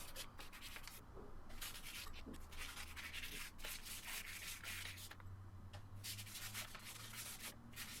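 Hand sanding of a wooden-handled utility knife made from scraps with 120-grit paper: steady rasping strokes that stay close and fairly loud, running continuously with short pauses between passes.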